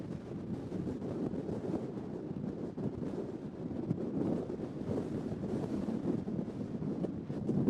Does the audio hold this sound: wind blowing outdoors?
yes